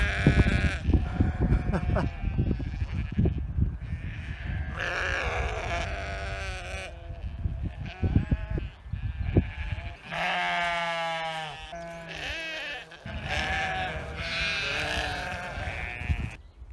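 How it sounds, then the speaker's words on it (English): Several sheep and lambs bleat loudly and repeatedly nearby in the Scottish Highlands, overlapping cries rising and falling, with some wind or handling noise underneath. "Sheep."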